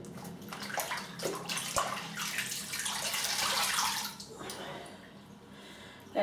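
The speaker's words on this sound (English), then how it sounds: "Let's rinse this out and get some fresh water into here" Water runs and splashes into a bathtub as it is rinsed and refilled with fresh water, a steady broadband rush rising and swelling toward the middle, then easing to a quieter trickle and dribble near the end.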